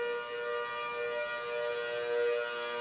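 Tornado warning sirens sound a steady, sustained tone that holds loud and unbroken for the whole stretch, with no voices over it.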